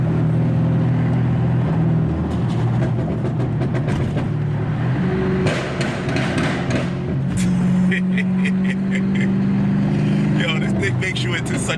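A BMW 550i GT wagon engine revs and pulls hard under steady road and wind noise, with people talking over it inside the cabin.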